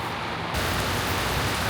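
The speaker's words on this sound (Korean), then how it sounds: "결국 비가 오네요." Steady, dense rain hiss that swells louder after a moment, continuous and close, with no voices.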